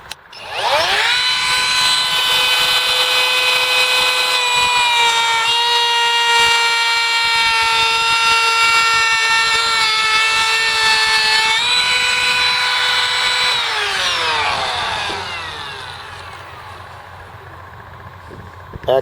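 Kobalt 24V Max brushless cordless router (model KR 124B-03) with a carbide bit cutting wood, a loud steady high-pitched whine with strong tonal harmonics for about fourteen seconds, then spinning down and fading.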